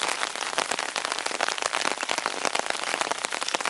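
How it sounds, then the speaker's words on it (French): Rain falls steadily on a vegetable garden plot in a street-side allotment, a dense, close patter of drops hitting leaves and soil with no pauses. "Vous entendez la pluie."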